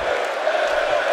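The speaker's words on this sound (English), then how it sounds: "And the crowd here cheering along, Fandangoing." A wrestling crowd in the WWE 2K17 video game cheers along in a dense, steady roar during a match, a short continuous burst of many voices.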